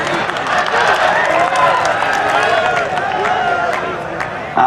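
Applause and crowd noise fill a poetry recital at the Datia Phag festival kavi sammelan, a steady wash of clapping and murmur from a large audience throughout.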